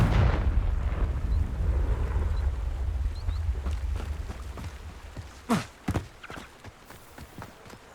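A fire-blast spell goes off in Hogwarts Legacy with a heavy, rumbling low-pitched burst that slowly decays over several seconds, then a few scattered thuds and clicks follow.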